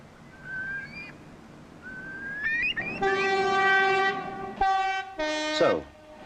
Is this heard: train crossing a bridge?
yes